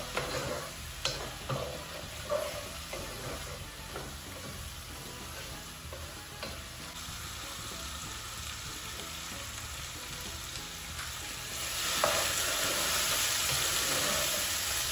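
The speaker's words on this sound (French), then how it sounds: "Je vais bien mélanger." Spinach with smoked fish and beef is stirred in a pot, giving a quiet, continuous sizzle with occasional spoon clicks against the metal and a louder burst of frying near the end.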